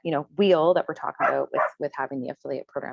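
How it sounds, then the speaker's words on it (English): A puppy barks and yips in the background while a person keeps talking over it. "I'm really sorry about the barking puppy in the background."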